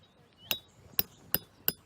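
A hammer knocks tent pegs into the ground while pitching a 1950s-style camp, four sharp separate strikes spaced about half a second apart, crisp and fairly close, with no talking.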